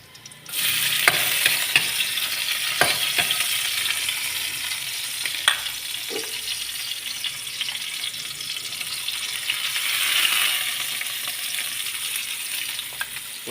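Garlic and onion sautéing in a pan for homemade pancit miki guisado, a steady broadband sizzle with occasional stirring clicks and scrapes, fairly close and continuous with no talking.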